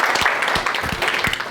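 A church congregation applauding and cheering to acclaim the Lord during a worship service, dense sustained clapping with scattered louder claps throughout.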